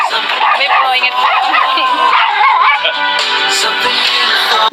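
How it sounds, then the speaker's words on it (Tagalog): A dog yips, whines and barks excitedly, loud and close, in a dense, continuous stretch mixed with other high-pitched vocal noise. "Ingay na aso ni Dr."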